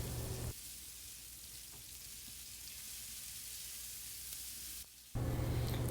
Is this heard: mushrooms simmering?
yes